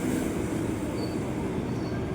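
The Tiruvannamalai–Narsapur special-fare train, hauled by a Vijayawada locomotive, rolls past as a steady, dense rumble with faint high wheel-squeal tones and no talk.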